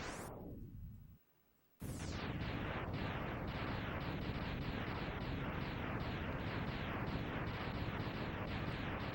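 Mega Man X on the SNES plays a long run of rapid, repeating retro game explosion blasts. The sound drops to near silence briefly early on, then dense, loud bursts follow steadily without talk.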